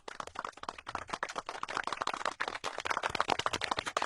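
Dense audience applause from a studio crowd during a Sas Bahu comedy show, rapid overlapping claps that rise and fall steadily for a few seconds, with no talking over it.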